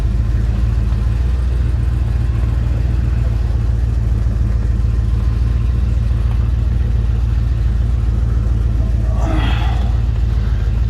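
Heavy, constant rumble from a 1973 Lincoln Continental engine as the car backs out, loud and close, with a brief brighter noise near the end.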